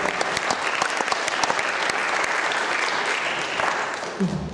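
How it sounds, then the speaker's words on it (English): An audience claps loudly and steadily after a saxophone performance, many hands with crisp individual claps near the front, tapering slightly at the end as a voice begins. "A round of applause just for that artistry."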